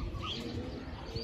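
Pigeons cooing during pigeon flying in rainy, windy weather, a low soft cooing with faint chirps against a steady outdoor hiss, quiet and brief.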